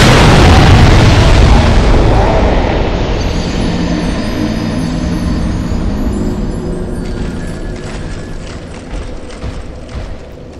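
A huge bomb explosion in the video game Dark Souls 2, starting with a loud, deep blast that rolls into a long decaying rumble with scattered crackling debris fading over several seconds.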